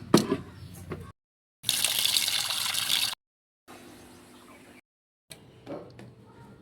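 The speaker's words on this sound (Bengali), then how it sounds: "খাওয়া দাওয়া শেষ করে চললাম এই যে চিংড়ি মাছটা ধুতে" Prawns being washed under a running kitchen tap, with bursts of splashing water in separate short runs separated by pauses, one loud stretch of gushing flow in the middle and softer trickling later.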